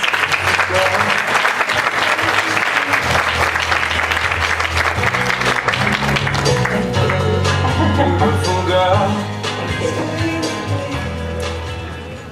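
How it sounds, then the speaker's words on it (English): Sustained audience applause greets someone speaker stepping onstage at a talk event, loud and steady over background music with tonal bands, tapering slightly near the end. "Could you please help me welcome, give a round of applause, Anne Harris."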